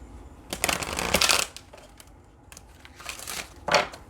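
Tarot cards being shuffled close up in quick riffling bursts, a long crisp flutter followed by shorter, softer riffles, with quiet pauses between and no talking.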